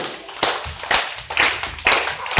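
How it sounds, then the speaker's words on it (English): An audience at a puppet show claps along in a steady rhythm, roughly two beats per second, each clap clear and close against a low background hum. "Start by clapping."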